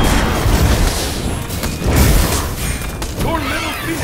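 A Phoenix tower comes under attack in the game SMITE. Repeated booming impacts and crashing hits pulse at a loud, busy level over a dense mix of battle effects.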